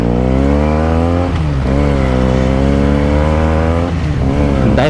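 Benelli TNT 300 motorcycle engine revving hard, a loud continuous multi-harmonic roar that dips briefly between throttle blips and climbs again, close to the bike with no talking.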